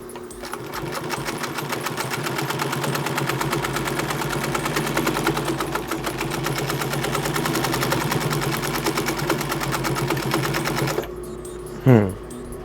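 A German-made Singer 112WD180 double-needle industrial sewing machine runs steadily with a fast, even mechanical stitching rattle for about eleven seconds, then winds down and stops, leaving a brief whir and clunk.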